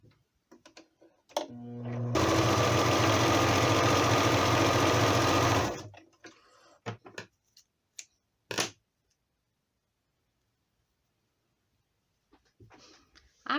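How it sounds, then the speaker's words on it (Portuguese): A sewing machine stitches a round fabric piece onto a cone made from a reused sweets jar lid, running in one loud steady whir for several seconds between soft handling clicks and rustles. "eu vou pegar aqui a parte redonda e vou costurando aqui nesse cone"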